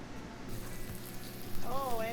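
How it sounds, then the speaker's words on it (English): Pistachio-crusted lamb sizzles in a hot pan, a steady close crackle of frying under a voice, with a brief higher whine near the end. "Oh, and it's sizzling. It's sizzling."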